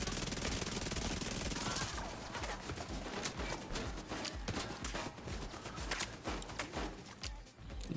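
Submachine gun fire in The Division 2, a PVE heroic mission: dense, rapid bursts of loud automatic shots crackling continuously up close amid game action, with no talk over it.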